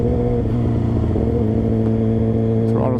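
A motorcycle engine with a touchy throttle runs close and loud in a steady, throbbing drone, with small uneven surges and a brief blip near the end.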